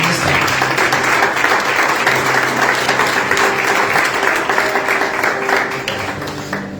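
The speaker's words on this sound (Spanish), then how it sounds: "Den un aplauso a la palabra." Sustained applause from a church congregation fills the whole stretch, steady and loud, with a few voices faintly mixed in.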